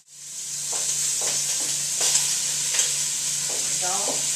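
Sausage sizzling in olive oil in a hot soup pan, a bright continuous frying hiss broken by several stirring scrapes and clinks, close and loud with no voices.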